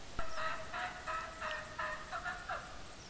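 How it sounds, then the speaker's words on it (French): Wild turkey gobbling outdoors in the field, a series of rapid rattling calls repeated several times over a few seconds, fairly distant against a steady insect-like background hiss. "Donc le dindon n'a pas fui, comme le montre le son qu'on entend."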